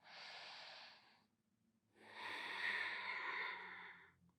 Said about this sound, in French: prenez 3 grandes respirations abdominales